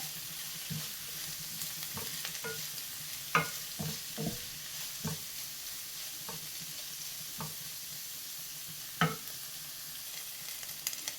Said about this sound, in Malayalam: ഇത് നമുക്ക് നല്ലതുപോലെ ഒന്ന് വഴറ്റിയെടുക്കാം ഈ ഇല